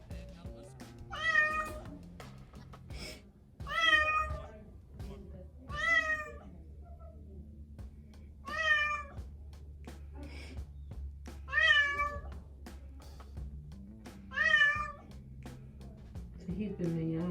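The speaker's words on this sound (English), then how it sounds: "He's been meowing like that all day." A cat at a veterinary hospital meows repeatedly, six or seven loud, drawn-out cries spaced a few seconds apart over a low background hum, with people talking softly between them.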